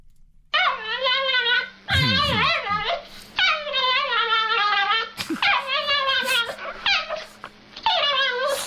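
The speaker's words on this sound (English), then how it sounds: "Trick question. It's a dog." A dog whimpers in a string of high, wavering, whiny cries, close by and fairly loud.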